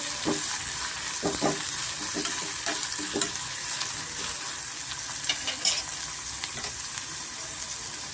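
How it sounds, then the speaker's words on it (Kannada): Beans, carrot, ginger and onion fry with a little salt in a pan for red poha chitranna, giving a constant bright sizzle with scattered scraping stirs and light knocks close by. "ಶುಂಠಿ ಬೀನ್ಸು ಕ್ಯಾರೆಟು ಮತ್ತು ಶುಂಠಿ ಈರುಳ್ಳಿ ಎಲ್ಲ ಸೇರಿಸ್ಕೊಂಡು ಸ್ವಲ್ಪ ಸ್ವಲ್ಪ ಉಪ್ಪು ಸೇರಿಸ್ಕೊಂಡು ನಾನು ತರಕಾರಿನ ಬೇಯಿಸ್ಕೊತಾ ಇದ್ದೀನಿ"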